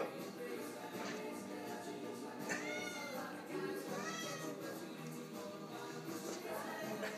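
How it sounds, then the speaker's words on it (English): A cat being spun around gives several short meows and chirps spread through the clip, close by, over soft rustling and a person's quiet voice. "You want to spin the kitty more?"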